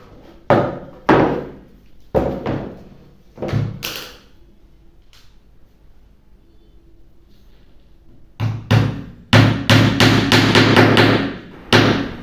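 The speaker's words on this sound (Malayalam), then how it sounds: "ഞാനിപ്പോൾ 2 വശത്തും ആണിയാണ് വെക്കുന്നത്" A hammer drives nails into wood during carpentry work: clusters of sharp, close knocks, then a quiet stretch, then a rapid run of strikes toward the end.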